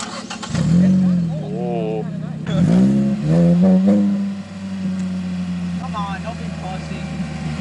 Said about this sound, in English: Wanna do a rip in your muffler delete? Let's do it for the video. Here, give it a few revs